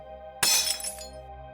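A drinking glass bursting in a horror story, one sharp sudden shatter with bright tinkling fragments decaying over about half a second against a faint humming background.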